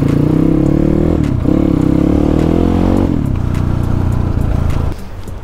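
Honda CBR 150 motorcycle engine runs loud and close, its pitch rising as it revs and then settling into a rough idle, with a few clattering knocks.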